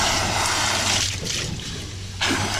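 Water from a hose pours into a paint bucket used as a homemade bait well, giving a steady, close splashing rush that briefly dips in the middle before surging back.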